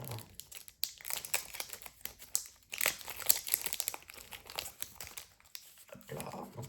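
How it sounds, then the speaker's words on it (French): A Pokémon Sword and Shield Rebel Clash booster pack wrapper is torn and opened up close, a steady run of crinkling, crackling foil with sharp rips and rustles that comes and goes in bursts. "J'avais oublié que ces boosters étaient aussi nazes à ouvrir."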